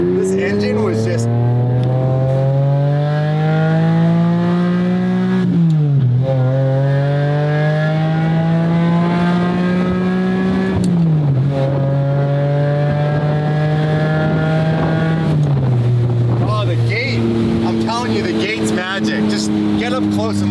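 A car engine runs loud and close, its pitch climbing through gears in repeated sweeps as it accelerates, with voices talking over it.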